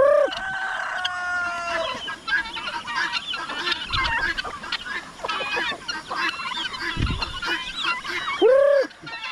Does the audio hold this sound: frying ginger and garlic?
no